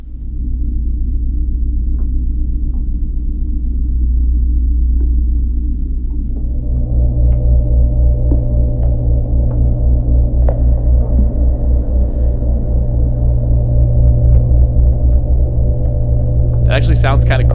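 A refrigerator's low hum reworked into a sustained drone pad with reverb, a steady deep rumble that thickens and swells partway through, ending in a brief bright burst.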